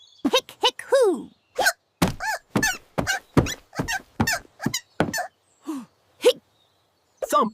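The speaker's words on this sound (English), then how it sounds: "out came a hiccup that sounded like a squeezed rubber duck." Cartoon hiccups come as a quick run of squeaky, voiced chirps, like a squeezed rubber duck, with rising and falling pitch. About a dozen sharp bursts arrive in an uneven rhythm, close and fairly loud, and sound voice-made.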